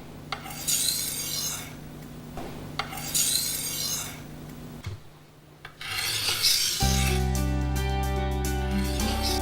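A knife blade drawn repeatedly across a sharpening surface, producing close, rhythmic rasping strokes in bursts with brief pauses, followed by a steadier grinding tone.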